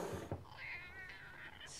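A cat lets out a drawn-out, wavering meow after a couple of short thumps, close and clear, with a brief higher squeal at the end and no talking.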